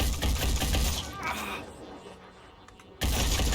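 Gunfire in the tactical game Phoenix Point, dense bursts of rapid shots at the start and again at the end, loud and close, separated by a quieter stretch.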